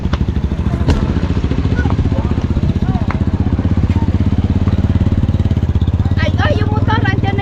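A nearby motorcycle engine runs with a steady, rapid putter while people chat over it outdoors.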